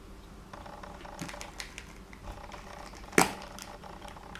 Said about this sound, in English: Now I am opening the bulb to clearly see the burn marks.